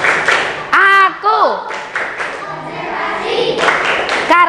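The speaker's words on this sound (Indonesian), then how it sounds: "Tepuk konsentrasi." A classroom of children clap a quick rhythmic concentration pattern, sharp close claps mixed with their chanting voices.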